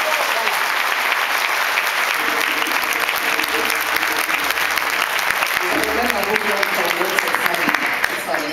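Audience applause for a jury member at a ceremony, sustained steady clapping from a sizable crowd throughout, with faint voices murmuring underneath.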